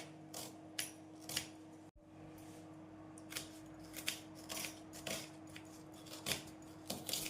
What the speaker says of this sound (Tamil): நாம் பெரிய வெங்காயத்தை பொடியாக நறுக்கி எடுத்து விடலாம்